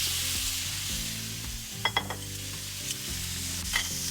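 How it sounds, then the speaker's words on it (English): Steak sizzles steadily in a hot cast iron skillet, a dense crackling hiss with a few soft utensil taps and scrapes over it. "Sizzle is just what I want."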